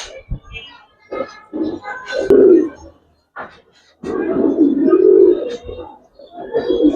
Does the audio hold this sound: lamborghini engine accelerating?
no